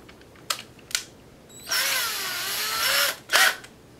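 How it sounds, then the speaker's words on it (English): A small power drill with a 1/16-inch bit whirs for over a second, its pitch sagging under load, framed by a few sharp clicks and taps nearby. "Take a 1/16 drill bit."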